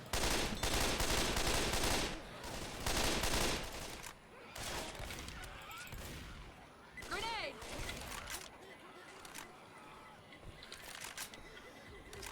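Gunfire in the Left 4 Dead 2 zombie shooter, loud bursts of rapid shots in the first few seconds, then scattered shots and game noise while players talk excitedly over it.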